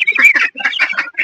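Ducks on a poultry farm quack and squawk at close range while being fed. A rapid cluster of loud, overlapping calls comes in short bursts with brief gaps.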